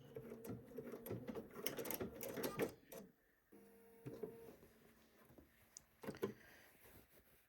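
A sewing machine runs in short bursts while back stitching along a fabric fold on a pants back, its quick needle chatter stopping and starting with quiet pauses between runs.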